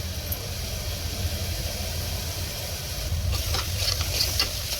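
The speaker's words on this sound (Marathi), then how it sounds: "चांगलं मिक्स करून घ्या।" Red chili powder is stirred into a simmering ridge gourd and chana dal curry. A steady sizzling hiss runs throughout, and a few light scraping stirs of the spoon come through near the end.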